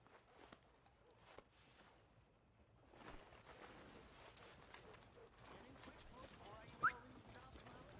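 Horse hooves clip-clop steadily in Red Dead Redemption 2 on PlayStation 4, a moderate walking rhythm with game ambience and voices talking over it.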